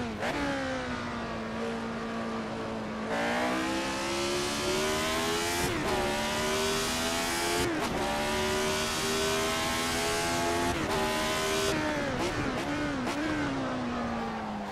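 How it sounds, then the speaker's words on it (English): Retro Formula One car in Assetto Corsa at the Nürburgring, engine held hard on throttle with a loud, steady high-pitched wail that rises through the revs and dips briefly at gear changes, heard alone. "Getting hard on the throttle there."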